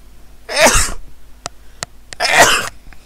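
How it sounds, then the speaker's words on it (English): Two loud, close sneezes about two seconds apart, each a sharp broadband burst, with a few faint clicks between them and no talking. "I'm gonna sneeze."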